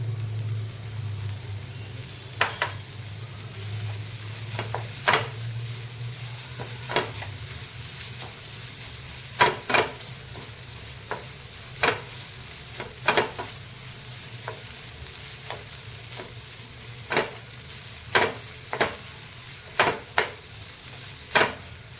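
Grated sweet potato with khoa is stirred and roasted in a pan for halwa, a soft steady sizzle under a dozen sharp spoon scrapes and knocks against the pan at irregular intervals.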